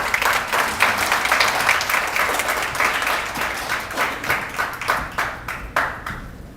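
Sustained audience applause greeting a keynote speaker at a Cohort 10 promotion ceremony, dense and steady, thinning into separate claps near the end.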